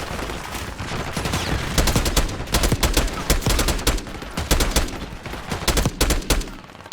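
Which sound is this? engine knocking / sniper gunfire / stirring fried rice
sniper gunfire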